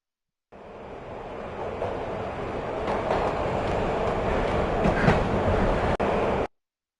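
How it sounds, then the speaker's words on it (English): Train ride in Max Payne: a steady, loud rumbling roar of a moving train car runs throughout, with a few sharper clanks and rattles, alone and without voices. "This was my second train ride of the night."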